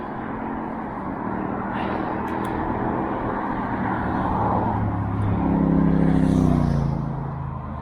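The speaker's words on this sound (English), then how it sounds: "Cars are still just over here. As you hear them getting louder now" Cars on a nearby road heard during a mountain bike ride, a steady traffic rumble that swells as a vehicle draws closer and passes toward the end.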